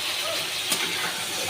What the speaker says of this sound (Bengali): এবার আমি আলু, কাঁচা লঙ্কা দিয়ে দেবো